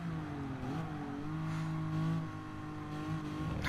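A car engine in Gran Turismo holds a steady, loud revving drone with shifting pitch and a brief dip, heard alone without voices.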